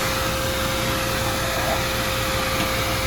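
A hair dryer blows steadily and loudly on a dog's coat after a bath, a constant close whoosh of air with a faint tonal whine running through it and no pauses.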